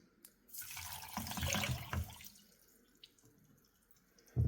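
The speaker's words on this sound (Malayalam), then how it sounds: "അത്ര എടുത്തിട്ട് നമ്മൾ പാത്രത്തിലേക്ക് ഒഴിക്കുന്നു" Water poured into a cooking vessel of fonio millet grains, a splashing pour that swells for about two seconds then fades to light trickles and drips, close and alone without speech.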